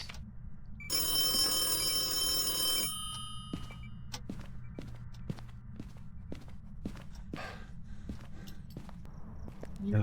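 Telephone bell ringing in a video game, a bright steady ring lasting about two seconds near the start, followed by repeated soft footstep-like thuds over a low background hum.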